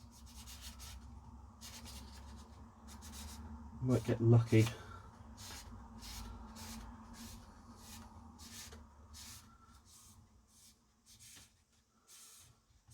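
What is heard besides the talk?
paper rubbed around inside a Philips VR6860 video recorder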